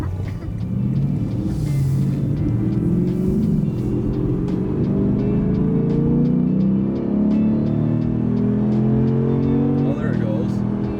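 A BMW in Sport Plus mode accelerates from inside the cabin, its engine drone rising steadily in pitch, loud and continuous, with occasional light clicks and people talking briefly.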